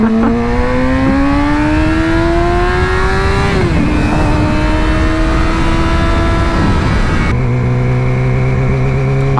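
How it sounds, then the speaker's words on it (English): Motorcycle engine revving hard after a missed shift drops it into neutral, loud continuous rising and falling engine pitch with a sudden drop near the end, close and steady with no talk. "I actually missed my gear and I popped the bike into neutral."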